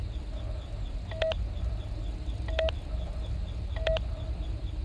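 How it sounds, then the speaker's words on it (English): Keypad button tones sound while a name is entered in the Five Nights at Freddy's: Sister Location video game. There are three spaced pairs of short electronic beeps over a steady low hum, with no voices. "Please enter your name as seen above the keypad."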